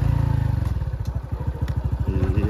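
A new motorcycle's engine revving up as it accelerates, a close, rapid pulsing putter that rises in pitch and speed, briefly dips, then climbs again, with no talking.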